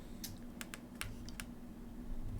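A computer keyboard is typed on in a short burst of sharp, close clicks, about eight keystrokes in an uneven rhythm over a low background hum, with no talk.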